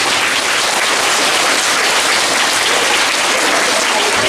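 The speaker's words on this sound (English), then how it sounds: "So let's give them a round of applause." Loud, dense applause from a school assembly crowd fills the whole stretch, a continuous wash of many hands clapping at close range.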